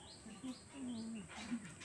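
Pet birds chirp close by in short, soft, high tweets and a few lower coo-like calls, with faint voice sounds mixed in.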